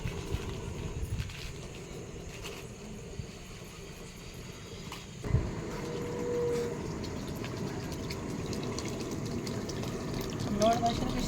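Water poured into a cooking pot at a roadside stop on a Tamil Nadu trip, a steady splashing wash beneath ongoing conversation, with a brief thump midway.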